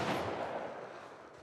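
A single gunshot in the video game The Last of Us Part 1: one loud, sharp blast at the start that fades into a rumbling, reverberant tail.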